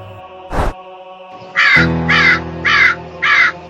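A crow gives four loud, harsh caws at an even pace, close and clear, after a single earlier thump, with a faint steady hum underneath.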